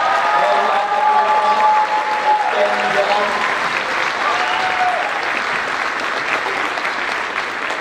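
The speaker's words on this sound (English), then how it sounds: "How about another round of applause for our band here tonight?" An audience at a middle school spring band concert applauds, a dense sustained wash of clapping that tapers slightly, with voices mixed in beneath.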